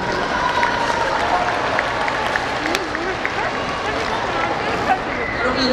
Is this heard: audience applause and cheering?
yes